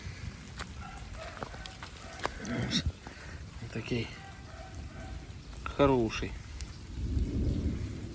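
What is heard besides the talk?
hailstorm with rain and thunder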